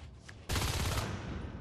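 A multiplayer shooter game erupts in a sudden burst of rapid gunfire, a dense, loud, close volley that sustains through the rest of the short clip.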